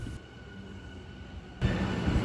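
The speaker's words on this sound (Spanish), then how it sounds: "A Eva le gustan mucho los trenes." A low rumble of a passing train in the Minatomirai area, growing louder and rougher toward the end as it draws near.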